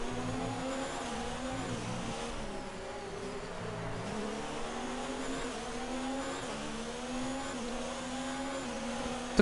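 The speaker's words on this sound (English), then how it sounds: "Look at the acceleration you got out of that corner." A race car in the F1 2019 video game accelerates hard out of a corner at the Mexican Grand Prix, its high engine whine climbing steadily through the gears, loud and continuous with no talk over it.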